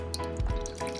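Water poured into small plastic tubs makes a brief low splash and gurgle over a faint steady hum, close by and quiet.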